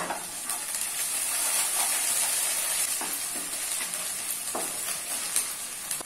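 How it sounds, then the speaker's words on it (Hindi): Ginger garlic paste gets stirred into onions frying in a pan for chicken masala, a steady close sizzle with soft scraping strokes from the spoon throughout and no voices. "अभी इसमें 1 चम्मच जिंजर गार्लिक पेस्ट ऐड कर लेना है और मिक्स कर लेना है।"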